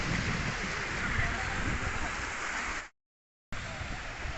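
Water rushes in a loud, continuous roar as a village pond overflows after heavy rain, with a brief total silence near the end before the rushing resumes.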